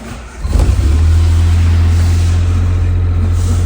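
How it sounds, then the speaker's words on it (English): A Suzuki Alto Works CR22S engine cranks, catches and settles into a loud, steady idle close by, with a brief rev at startup and no talk over it. "Let me start the car, see if that light is gone."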